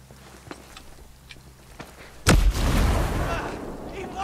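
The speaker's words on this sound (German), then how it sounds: "Wenn ich jetzt Granate zu dem Ding da hinten werfe" A grenade blast in the tactical shooter Ghost Recon Breakpoint: after a few faint footsteps and small pops, one sudden loud explosion bursts out and gives way to a long rumbling, crackling roar that fills the rest of the clip.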